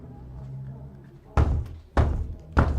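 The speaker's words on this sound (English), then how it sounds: "Banging on the door." Three heavy bangs on a door, evenly spaced about half a second apart, loud and close, following a quieter stretch of room noise.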